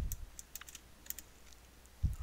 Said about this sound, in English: If you hear any clicking in the background, that's my keyboard.